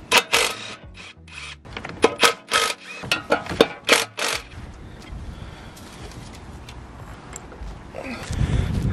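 A ratchet works loose the 9mm 12-point bolts around the edge of a part on a Skoda, giving several bursts of quick metallic clicking with short pauses between them, close by and fairly quiet, then low handling noise.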